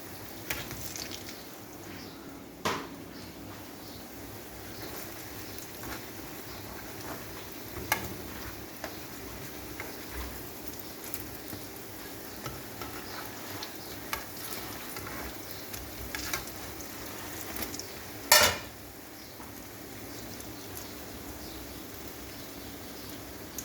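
Isa fish fries in a pan with a low, steady sizzle. Scattered light clicks and scrapes of a utensil break through it, and a louder clatter lands late on. There is no talk.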